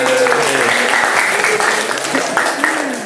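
A classroom of students claps together for a few seconds during a sociology lesson, a dense steady patter with a voice speaking over it.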